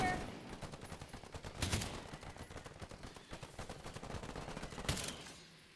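Rapid gunfire crackles through a zombie-shooter video game, continuous bursts of automatic weapon shots with a couple of louder blasts, close and steady throughout.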